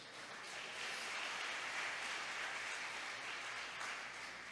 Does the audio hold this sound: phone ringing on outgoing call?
no